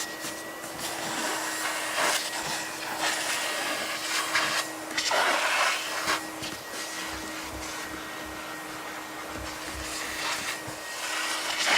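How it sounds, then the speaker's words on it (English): A vacuum cleaner runs steadily across a car's carpeted floor mat, picking up debris, its motor hum continuous for the whole stretch with scraping, rustling surges as the nozzle moves, and no talking. "I'm going to use my vacuum here and pick up the materials"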